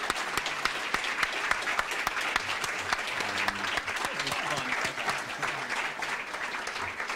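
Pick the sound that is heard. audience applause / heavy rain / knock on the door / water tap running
audience applause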